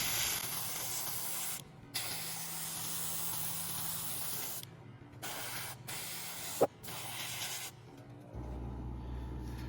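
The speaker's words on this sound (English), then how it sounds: "Now I have a little bit of a darker green inside my airbrush, and I'm going to airbrush around the eye sockets" An airbrush sprays dark green paint onto a kaiju toy, making a steady close hiss broken by several short pauses as the trigger is released and pressed again.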